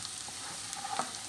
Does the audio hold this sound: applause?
no